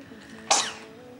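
A single short, sharp sneeze bursts out close by in a quiet indoor room, then fades into low background hum.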